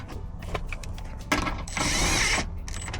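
A 10mm bolt being tightened on the battery tray of a 2010 Gen3 Prius, heard as brief mechanical clicks followed by a sustained whirring burst of a power driver, close and fairly loud.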